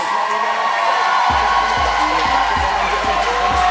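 Gorge Roller Girls fans at a roller derby bout cheer and whoop in a big hall, a continuous loud crowd roar with shouts rising over it and thumping rhythmic beats underneath.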